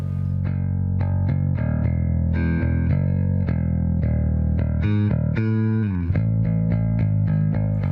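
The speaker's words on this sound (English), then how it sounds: "Here I am using a bass pedal with built-in compression, which produces very smooth and nice sounding tones." Electric bass played through a compression pedal into a 200-watt amp with 4x10 and 2x15 cabinets, a smooth, steady riff of sustained notes with a slide near the middle, no talking.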